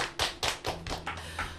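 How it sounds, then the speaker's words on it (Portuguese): A few separate claps for a guest in a radio studio, about six distinct hand claps in an uneven rhythm, close and fairly quiet, with no talk. "Uma salva de palmas para Júnior Belo."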